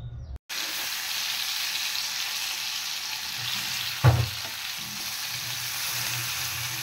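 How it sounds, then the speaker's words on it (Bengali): Pieces of chicken for restaurant-style chicken chaap fry in oil in a flat pan, making a continuous close sizzle after a short quiet start, with one sharp clank of the pan or utensil midway. "তো চিকেনের টুকরোগুলো আমি একটু উল্টে পাল্টে ভেজে নেব।"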